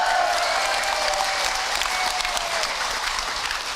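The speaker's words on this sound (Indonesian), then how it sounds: "tepuk tangan buat Ahilman Bu" Enthusiastic applause from an audience at an Indonesian motivational talk, a dense, even roar of clapping that holds steady and then eases slightly, with a faint voice rising above it.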